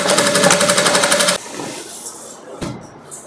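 A sewing machine stitches long gown pieces together in a fast, loud, rapid rhythmic whir for just over a second, then stops, leaving faint handling noises and a brief knock.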